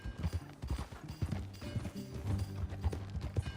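Horse hooves clip-clop at a steady trot in the video game Red Dead Redemption 2, a brisk, regular rhythm of hoofbeats heard fairly quietly with some low rumble beneath.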